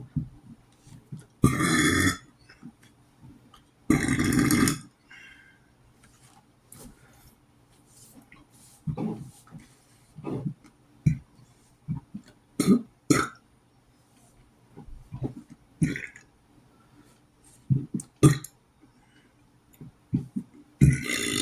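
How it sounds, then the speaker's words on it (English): A person burping repeatedly at night, two long loud burps at first, then a scattered series of shorter, softer burps and gulps, close by. "I didn't know burps could sound tired."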